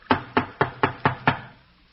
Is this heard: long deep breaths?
no